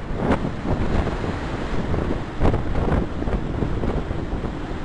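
Strong wind at sea buffets the microphone in a steady roar, with gusty surges and the wash of the sea faintly underneath, on a cruise off Norway.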